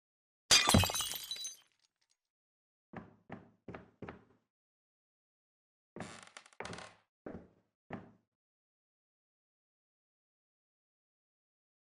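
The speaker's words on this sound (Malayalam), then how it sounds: "ചില്ലും കൂടും എറിഞ്ഞു പൊട്ടിക്കേണ്ടി വരും" A loud crash of breaking glass in the horror video game Shelley Manor opens, followed by two rhythmic bursts of four short knocks or smashes, sharp and close with silence between.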